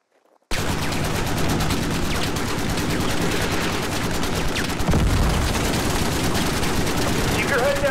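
Sustained heavy gunfire fills a live-fire training course in the video game Squad, a dense barrage of rapid automatic bursts starting abruptly after a brief quiet moment and continuing loud throughout, with a heavier boom midway.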